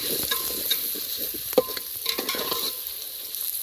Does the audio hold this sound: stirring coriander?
yes